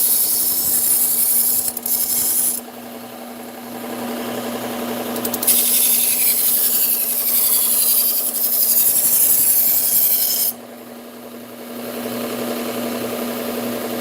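Kitchen knives are ground on a Cubitron P120 abrasive belt, a steady, loud whining hiss with a hum beneath that drops in level between passes, close by and without speech.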